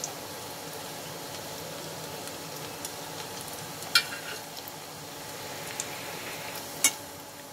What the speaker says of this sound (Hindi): बीच बीच में हम इसको चलाते रहेंगे ताकि ये चारों तरफ से अच्छे तरीके से गोल्डन ब्राउन फ्राई हो जाए